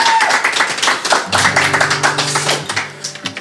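Audience clapping for a Greek musician at an intimate live session, a lively burst of hand claps as sustained low instrument tones hum beneath and fade toward the end.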